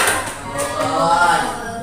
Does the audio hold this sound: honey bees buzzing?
no